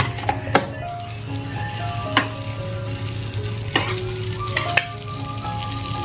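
A tadka sizzles in butter for palak paneer, a steady frying hiss underneath a low hum, punctuated by several sharp metallic clinks from a ladle.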